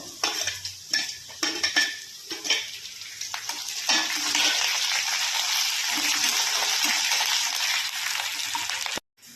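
Dry red chilies and curry leaves fry in hot oil for a vegetable bajji dish, with a few sharp utensil clinks giving way to a steady, close sizzle that cuts off abruptly at the end.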